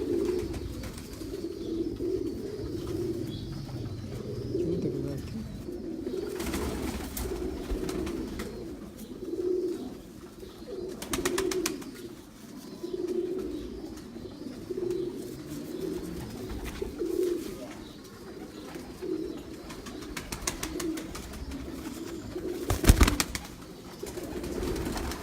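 Pigeons coo steadily on a rooftop, a low throaty warble repeating in near-continuous rounds with brief fluttering bursts and a sharp knock near the end.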